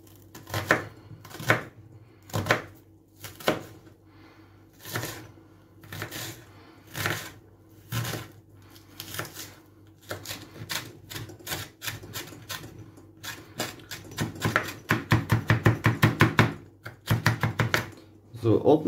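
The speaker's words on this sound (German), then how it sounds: "Und dann können wir direkt mit den Zwiebeln weitermachen. Die würfeln wir säuberlich, ordentlich, wie immer." Onions diced with a knife on a cutting board: steady, distinct chopping taps that speed into a rapid burst near the end, close and crisp.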